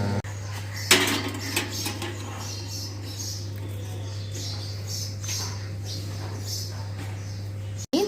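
A metal pizza tray clatters and scrapes as it is slid into an oven, with a sharp clang near the start, a few lighter clinks, and a steady low appliance hum underneath.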